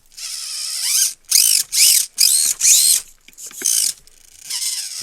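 A small Furitek 2S brushless RC car motor winds up in short bursts, giving a high, whiny mechanical rattle that comes in about six separate revs close to the mic.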